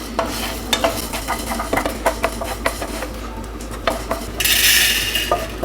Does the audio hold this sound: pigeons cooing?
no